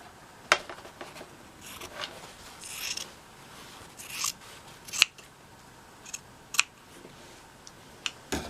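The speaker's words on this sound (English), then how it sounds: "I can just cut this right off" Sharp scissors snip through quilt binding fabric in a series of separate crisp cuts, about eight over several seconds, each one close and clear over a quiet room.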